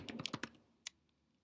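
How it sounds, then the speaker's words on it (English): A burst of close computer keyboard typing, about six quick keystrokes followed by one firm final key press, then quiet, with no speech. "So we can type advertising."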